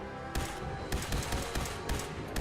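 Rapid gunfire in Fallout 4, a string of sharp shots in quick bursts with no pause, loud and close throughout.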